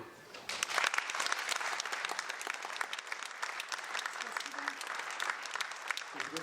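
Audience applause in a hall at a centenary literary evening, sustained dense clapping rising quickly and continuing steadily, fairly loud, with faint voices beneath.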